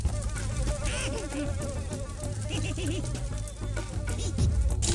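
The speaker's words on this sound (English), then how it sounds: "So seriously, fuck these bees." Bees buzz continuously in TimeSplitters 2, a dense insect drone over a busy game soundscape with layered music and effects, loud and sustained throughout.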